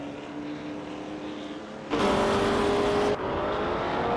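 A 1966 Porsche 906 race car drives during a race, its engine a steady mid-distance drone that swells abruptly into a louder, brighter roar for about a second before settling back.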